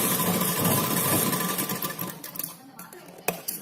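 A sewing machine runs fast and close while stitching tucks on a blouse, a dense whirring chatter for about two seconds that then slows and stops, followed by a few faint clicks.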